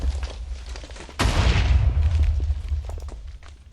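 Sudden loud blast in the Minecraft modpack Forgecraft2, a deep booming burst that hits partway through and rolls on as a sustained rumble before slowly fading, with no talking over it.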